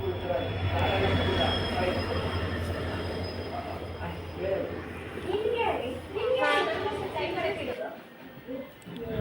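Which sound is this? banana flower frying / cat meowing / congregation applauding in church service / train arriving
train arriving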